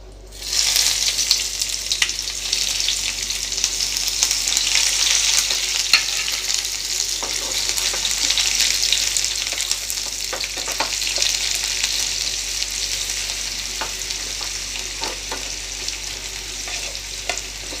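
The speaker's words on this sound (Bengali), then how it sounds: "পেঁয়াজগুলো আমার ভাজা হয়ে এসছে" Chopped onions fry steadily in hot oil with bay leaf and cumin for a green egg curry, a continuous close sizzle broken now and then by soft stirring scrapes.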